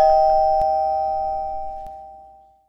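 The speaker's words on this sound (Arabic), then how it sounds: "سمعت جرس الباب" An electronic doorbell chimes once, a clear sustained tone that slowly fades over a few seconds in a quiet room, with a couple of faint clicks.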